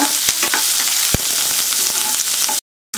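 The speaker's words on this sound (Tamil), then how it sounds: "கருவேப்பிலை போட்டு கொஞ்சம் நல்லா வதக்கிக்கோங்க" Curry leaves sautéing in hot oil for a vegetable-free fenugreek kuzhambu, a loud continuous crackling sizzle with a few stirring knocks, then cutting out abruptly to silence near the end.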